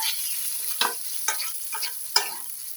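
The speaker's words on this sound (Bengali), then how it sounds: "এবার আমি ভেজে রাখা আলুগুলো এর মধ্যে দিয়ে দেবো, দিয়ে আমি একটু কষিয়ে নেব।" Fried potatoes are stirred into a pan of sizzling onion, ginger, garlic and spice mix, a steady close hiss broken by several scraping strokes of the spoon.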